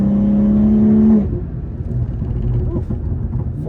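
A BMW G30 540i rated at 530 hp pulls hard in 5th gear on a mountain road, its engine holding a loud, steady tone before an abrupt drop into a lower, rougher rumble with wind noise.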